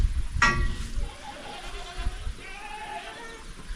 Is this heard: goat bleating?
yes